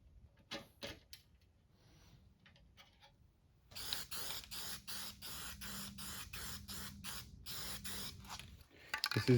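Cheap black gloss spray paint hisses from an aerosol can onto a Honda SL100 motorcycle part in a run of short, close bursts with brief gaps, after a few quieter sprays and light handling noises.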